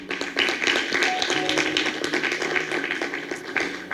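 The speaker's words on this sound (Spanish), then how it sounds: "Denle un aplauso a la palabra." A church congregation applauds during a Spanish-language sermon, giving a lively, fairly close patter of many clapping hands that stays dense and even from start to finish.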